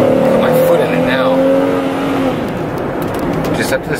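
A 101K-mile Pontiac Montana minivan with its service engine light on accelerates hard under load, the engine note climbing steadily with road and wind noise, while someone talks over it from inside the cabin.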